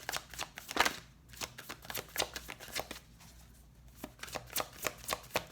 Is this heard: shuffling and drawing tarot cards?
yes